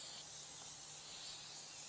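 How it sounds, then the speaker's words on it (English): Olive oil spray hisses onto a grill in one continuous close burst of steady spray, with no talking. "I always use an olive oil spray. So I spray the grill so the fish doesn't stick"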